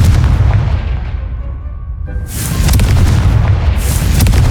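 Booming blasts from the Confringo spell in Hogwarts Legacy, a loud explosive impact followed by a second burst and rumbling game effects, with no talking.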